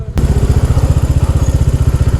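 A motorcycle engine idles close by on a trip through Meghalaya, a loud, deep, steady thumping putter with an even rhythm throughout.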